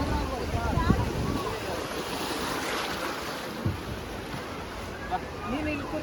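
A boat ride on the sea off Udupi beach brings steady wind buffeting and a rushing wash of waves against the hull, with faint indistinct voices in the background.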